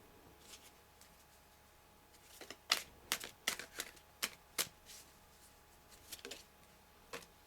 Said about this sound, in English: These cards have been shuffled.